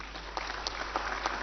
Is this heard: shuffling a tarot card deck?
no